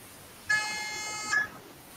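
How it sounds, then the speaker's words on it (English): A training buzzer sounds one steady electronic tone, lasting under a second, clear and fairly close, during a working-dog training session. "You got your buzzer ready, Mel?"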